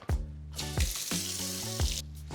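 Cold tap water runs into a bowl for potatoes in a home kitchen, a close, steady rushing stream with a few gurgling surges, heard alone without talk.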